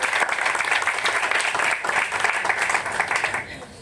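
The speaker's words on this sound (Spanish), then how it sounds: "Un aplauso para ellos." Congregation applause at a church ministerial ceremony in Puerto Rico, dense steady clapping from a crowd that fades slightly at the end.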